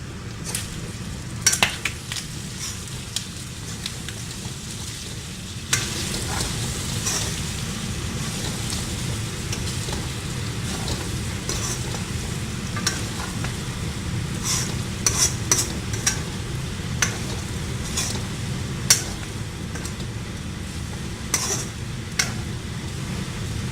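Pork with lai xaak stirred in a pan after a short covered simmer, a steady low bubbling sizzle with repeated sharp utensil scrapes and clinks against the pan throughout.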